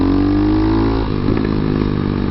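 Motorcycle engine running steadily while riding through Hanoi traffic, a loud continuous drone that dips slightly then picks up again as the throttle opens.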